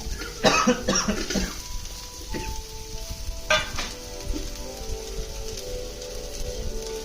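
Onion added to a pan with green chilies for Hyderabadi chicken dum biryani hits the oil in a few sharp crackling bursts, then settles into a steady, close sizzle with light stirring.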